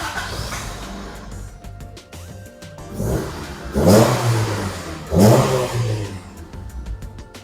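A Honda Civic Genio, just fitted with a replacement fuel pump, cranks and starts, then its engine revs up sharply twice in strong surges before dropping back to idle, heard up close.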